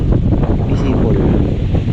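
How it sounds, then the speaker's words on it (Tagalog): Strong wind buffets the microphone outdoors by the water at a tilapia fish pen, a steady, loud low roar that runs through the whole moment and swamps other sound. "grabe lakas ng hangin ah."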